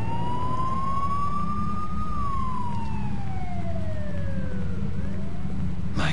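A wailing ambulance siren from the video game Overclocked sweeps slowly up and down in pitch over a steady low engine drone, clear and fairly loud for about six seconds with no talking.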